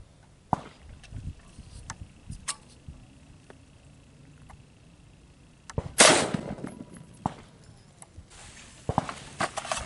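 A .223 rifle round strikes the window glass of a Texas armored car as one sharp, loud crack with a brief harsh burst. Quieter clicks and knocks come before it, and more handling noises follow.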